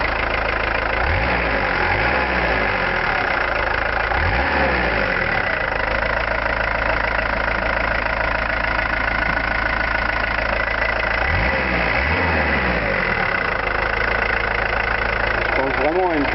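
A 2005 car engine idling with a suspected cylinder head fault, running steadily with a rough, knocking vibration and recurring low swells, while someone talks over it.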